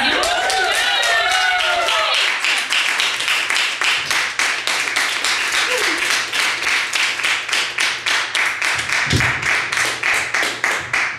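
An audience at a comedy show claps for a comedian, starting with cheers and voices, then settling into steady, loud rhythmic clapping that carries on throughout.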